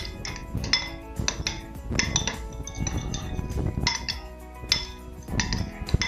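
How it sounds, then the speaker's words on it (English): Whisking tartar sauce ingredients with Dijon mustard in a bowl gives quick, repeated clinks and scrapes of utensil against the dish, in uneven bursts close by with no talking. "Now we're gonna mix it up a little bit. Do a nice little mix."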